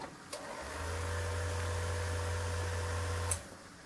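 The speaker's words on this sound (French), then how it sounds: "Le moteur s'est mis en route." A model railway locomotive's small electric motor starts up after passing an infrared obstacle detector, giving a steady low hum that runs for about three seconds, close and moderately loud, with faint clicks at start and stop.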